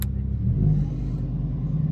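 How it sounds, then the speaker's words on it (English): Lamborghini Huracan Performante LP640 exhaust in Corsa mode, a steady deep engine rumble with a slight rise in revs near the middle, close and continuous with no talk. "you can hear the exhaust note change straight away"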